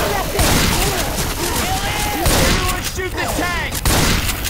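Rapid gunfire in Left 4 Dead 2 during a fight with a tank, loud continuous shots and crashes up close, with excited voices shouting over the action.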